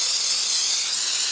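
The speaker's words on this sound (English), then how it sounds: "Alright, now spray down" Cleaner is sprayed onto a cloth during a front brake job on a 2005 Lexus ES330, giving one loud, continuous close-up hiss of spray that lasts the whole moment.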